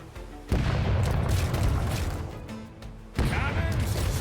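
Two deep, booming cannon blasts from a video game, each followed by a long rumbling roar, loud and close, with a short quiet gap between them.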